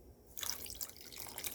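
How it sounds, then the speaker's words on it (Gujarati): Water splashes and trickles steadily for a moment, a close, bright running-water sound of half a cup poured into a pot for sugar syrup. "અડધો કપ પાણી રેડીશું"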